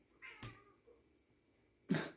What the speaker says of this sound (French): Mon chat qui râle.